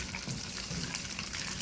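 Fenugreek seeds and green chilies fry in hot oil with a steady, fairly quiet sizzle that continues evenly throughout, with no one talking.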